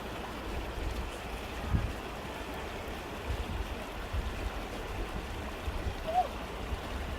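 A mountain river stream on the rainy, cold slopes of Mount Kenya gives a steady, soft rushing of water, faint and continuous with no other clear sounds over it.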